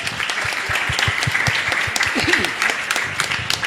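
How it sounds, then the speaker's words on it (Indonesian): Audience applause at a leader and member training session, steady dense clapping from a crowd filling the whole moment, with a few voices calling out underneath. "aplaus dulu kita"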